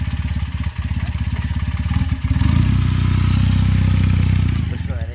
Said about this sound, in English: Listen to that engine rumble.